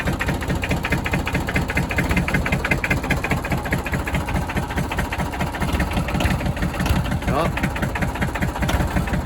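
A cold Massey Ferguson diesel tractor engine starts on a snowy day and settles into a rough, lumpy idle with uneven firing pulses, loud and close, while someone speaks briefly over it.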